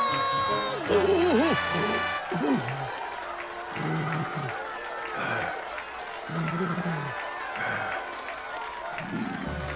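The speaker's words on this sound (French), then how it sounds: "On applaudit bien fort notre ami Papy Castor!" An audience of children applauds and cheers for Papy Castor in a cartoon scene, a continuous wash of clapping and shouts running throughout beneath voices and bright musical tones.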